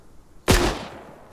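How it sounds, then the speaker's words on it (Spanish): Machine gun fire in a military video game: one loud, close report bursts out sharply and rings off in a fading, echoing tail over quiet background. "Vale. Es una ametralladora."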